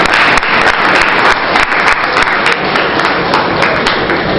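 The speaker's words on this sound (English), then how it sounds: "I think she deserves a round of applause" Auditorium audience applauding at a research institute workshop in-house review, a dense, steady wash of many hands clapping that holds loud and continuous throughout with no voices on top.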